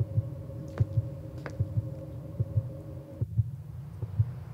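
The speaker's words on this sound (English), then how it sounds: "Why is your heart beating?" A heartbeat pulses in Sucker For Love: Date to Die For, a steady low double thump repeating about once a second over a faint droning hum.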